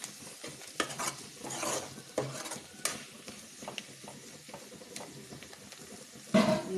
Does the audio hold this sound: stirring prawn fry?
yes